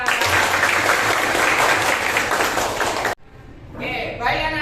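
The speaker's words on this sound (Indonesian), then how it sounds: "tepuk buat kita semuanya" A classroom of students clapping hands together, a loud dense burst of applause that cuts off abruptly, followed by a softer shorter round of clapping.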